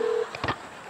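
A telephone being dialed to call a doctor gives a brief steady tone at first, then a few soft clicks and thumps. It is fairly quiet, and no one speaks.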